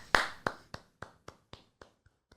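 A sharp single hand clap, then a run of about eight slower claps that steadily fade and space out, close and alone with no talk around them.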